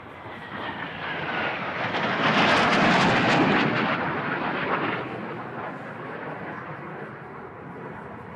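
Eurofighter Typhoon fighter jet at the Farnborough air show, roaring past along the display line inverted; a broad, loud jet rumble swells to a peak mid-pass and then slowly fades as it moves away.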